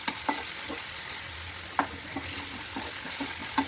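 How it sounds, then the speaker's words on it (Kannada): Ginger garlic paste, chopped tomato and salt fry in a pan with a steady soft sizzle, broken by a few light scraping stirs at irregular intervals; no one speaks. "ಈಗ ಇದಕ್ಕೆ ಶುಂಠಿ ಬೆಳ್ಳುಳ್ಳಿ ಪೇಸ್ಟನ್ನು ಹಾಕ್ಕೊಳ್ತೀನಿ. ಆನಂತರ ಸಣ್ಣದಾಗಿ ಕಟ್ ಮಾಡಿರುವಂತಹ ಒಂದು ಟೊಮ್ಯಾಟೊ, ನಂತರ ಉಪ್ಪು, ಇದಿಷ್ಟನ್ನು ಹಾಕಿ ಚೆನ್ನಾಗಿ ಫ್ರೈ ಮಾಡ್ಕೊಳ್ಳೋಣ."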